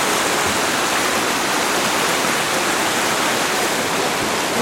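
Waterfall on a river swollen to full flow in autumn, a dense, steady broadband roar heard from a distance indoors, loud and unbroken with no voices.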